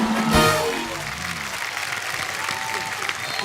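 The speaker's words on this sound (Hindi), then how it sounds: "जोरदार तालियां गोविंदा सर के लिए" Loud applause from a television comedy show studio audience greets Govinda's entrance, with a brief burst of cheering and music at the start before the clapping settles into a steady wash.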